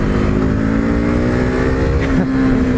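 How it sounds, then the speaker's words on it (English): A KTM RC390 sport motorcycle engine drones loudly and continuously while being ridden, its pitch holding steady with a slight shift near the end. "That engine, I can't get over that engine, how much fun it is."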